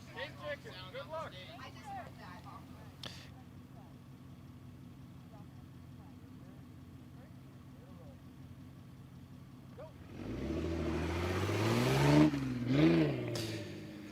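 An off-road race car at a King of the Hammers qualifying start line, its engine idling under crowd chatter and nearby talk before rising into a loud revving surge as it pulls away, with pitch sweeping up and down near the end.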